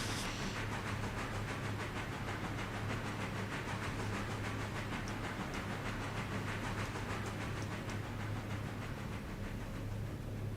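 A steam locomotive runs steadily in the railroad game Railroader, a constant broadband hiss and rumble with faint rhythmic chuffing and low drone, continuous throughout without talk.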